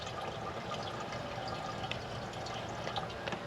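Liquid pours into a chickens' drinking water container outdoors on a homestead, a steady splashing trickle that runs continuously at close range, with no talking.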